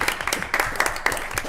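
Brief scattered applause at a city historic preservation commission meeting honoring a retiring member after fifteen years, a small group clapping unevenly at close range for a moment.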